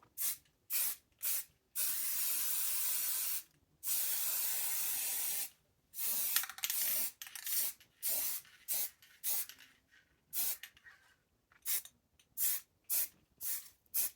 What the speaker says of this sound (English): Being careful not to overspray the board, making sure I get all the edges.